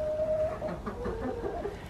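A backyard flock of seven chickens in winter, soft clucking and a short drawn-out call at the start, followed by scattered low clucks, nearby and moderate in volume.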